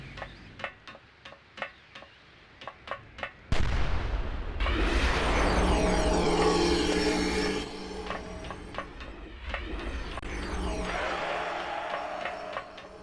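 Ghost gun fire in the action game Oni on a rooftop: a row of sharp ticking shots, then a heavy booming blast with a long rumbling tail, followed by further crackling bursts and shots.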